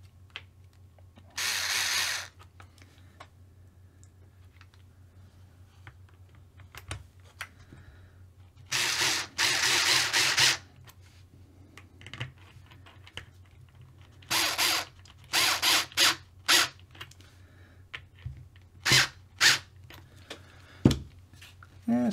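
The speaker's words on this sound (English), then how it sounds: "let's see if we can get these screws to go down into it." A screwdriver drives screws into a Tamiya TT-02 RC car chassis, heard as several separate bursts of whirring and clicking, some long and some short, with quiet gaps between them and no talking.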